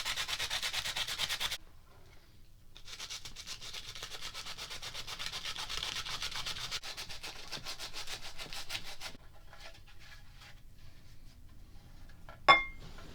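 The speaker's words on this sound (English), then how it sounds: "and I do some sandpaper" Sandpaper is worked by hand inside the pickup cavity of a Jaguar guitar body, giving a soft, steady scratching of quick back-and-forth strokes. It stops briefly, then ends with a small clink. No voices.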